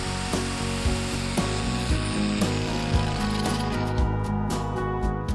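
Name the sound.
jigsaw cutting 15mm plywood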